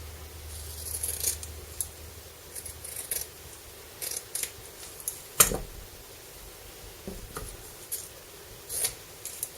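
Scissors snip through fabric scraps at close range, giving a string of irregular light crisp cuts, one louder chop near the middle and small rustles between them in a quiet room.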